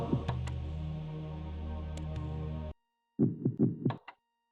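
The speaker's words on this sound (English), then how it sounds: "every movement is a really loud heartbeat" Loud, low heartbeat thuds from the video game Blood Omen: Legacy of Kain pulse under a droning hum, cut off abruptly, then a quick burst of several heavy beats before silence.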